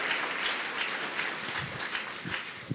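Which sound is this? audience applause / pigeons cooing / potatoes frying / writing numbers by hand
audience applause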